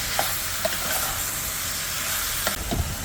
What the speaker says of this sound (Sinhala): විනාඩි 2-3කට පස්සේ මේ විදිහට ආපහු කලවම් කරලා ගන්නවා